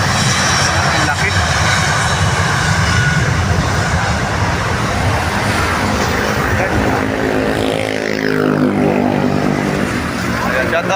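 A large passenger airplane roars loudly and steadily, its engine noise broad and continuous before shifting pitch as it passes overhead, with voices talking underneath.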